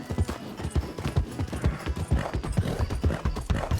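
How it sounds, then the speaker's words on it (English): Horse hooves clip-clopping in a steady galloping rhythm while riding in Red Dead Redemption 2 during ranch roleplay, loud and close with an occasional faint whinny. "How long have I been riding that horse?"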